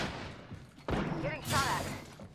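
Gunfire in Apex Legends, a sharp shot cracking in abruptly, followed by a second burst of weapon fire a moment later amid a busy game soundscape.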